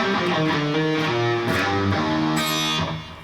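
An electric guitar picks a quick run of single notes in the Lydian mode with a raised fourth, from a song intro. The notes are clear and sustained, fairly loud, and ring out alone before fading at the end.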